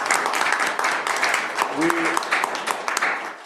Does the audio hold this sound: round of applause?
yes